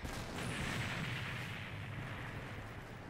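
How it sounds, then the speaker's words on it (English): A muffled rumbling boom rolls out and fades into a steady low roar, a distant explosion in Tales of Vesperia Definitive Edition on Nintendo Switch, with no talking. "Still lots of explosions, too."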